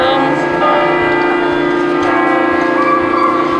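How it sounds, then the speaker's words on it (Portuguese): Church bells ring at Marienplatz in Munich, a loud, dense, sustained peal with many overlapping tones that carries steadily through the whole stretch with no break. "Eu gastei um dinheirão para encomendar esses sinos, mas funcionou perfeitamente"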